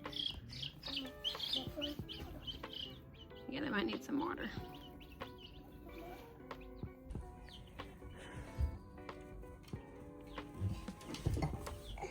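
Newly bought baby chicks give soft, faint chirps and tweets at home, scattered between a family's quiet talk with a young child.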